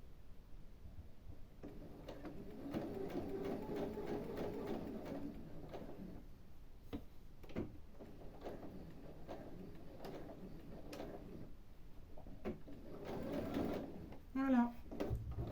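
A domestic sewing machine stitches with polyester thread, running steadily and gradually faster toward the end of a seam, close and moderate in level, beneath someone talking throughout.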